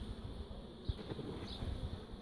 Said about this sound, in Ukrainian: Тут лупиться бджола.